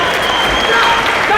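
A crowd roars and applauds steadily through the closing seconds of a Karate Combat championship bout, a dense, continuous wall of cheering with a commentator talking over it.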